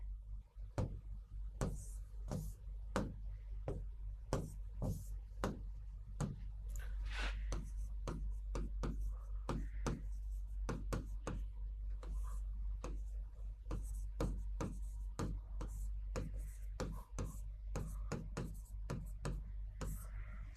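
Handwriting on a board or paper during a Hindi class lesson: a long run of quick, sharp strokes and taps in irregular rhythm, close and clear over a low steady hum, with no talk.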